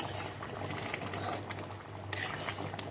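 Chicken malai handi simmering in a covered wok over the flame, a steady close bubbling and gentle crackle with a low hum beneath and a few brief louder pops, no voices.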